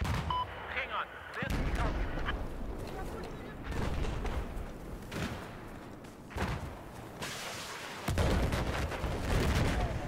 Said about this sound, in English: I'm just taking some fire from a sniper at the moment